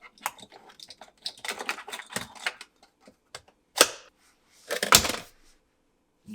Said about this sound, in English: keep pushing until you hear some clicks